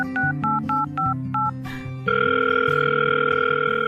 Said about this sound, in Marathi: हय तर, लायात फोन.